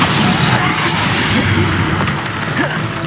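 Loud explosive blasts from the Bombarda spell in the video game Hogwarts Legacy, dense rumbling bursts filling the whole stretch alongside other spell effects and game sounds.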